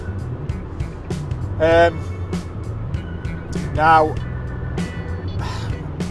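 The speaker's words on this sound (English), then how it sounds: "we are in a single cab tipper truck, so it's a bit noisy, and I am on a motorway" Steady low rumble and road noise inside the cab of a single-cab tipper truck cruising along a motorway, a constant drone running under someone talking.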